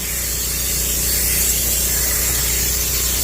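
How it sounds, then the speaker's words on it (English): A continuous hissing spray of cleaner onto a car seat, close up, steady and fairly loud for a few seconds with a faint low hum underneath. "I'll spray it down a little bit."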